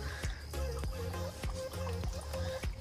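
Water trickles and drips from an indoor waterfall among cacti, a gentle steady flow with soft rhythmic splashes close by and no talking.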